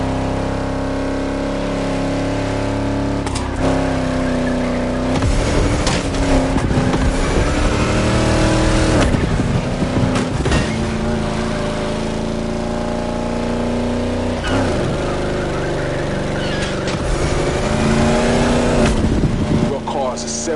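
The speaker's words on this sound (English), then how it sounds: "Car's a 71 Caprice, the purest base you can get." A 1971 Chevrolet Caprice engine at a motorfest, loud and close, revving and surging in repeated bursts over about twenty seconds while people talk in the background.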